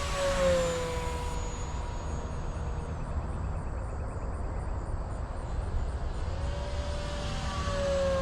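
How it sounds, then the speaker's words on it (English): A Durafly Curtis P-40N Warhawk V2 RC plane makes a fast high-speed pass, its motor whine sweeping down in pitch as it flies by at the start and rising again as it returns near the end, over a steady outdoor background. "The plane tracks better even at these fast, high-speed passes."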